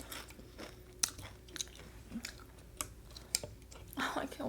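Someone chews potato chip animal style fries up close, with a string of sharp, irregular crunches and bites separated by quieter mouth sounds.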